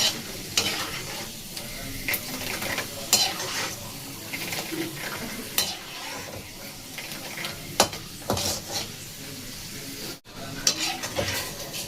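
Peanuts frying in oil over a low flame, with a steady crackling sizzle and a spoon stirring and scraping against the pan now and then, heard up close and without speech.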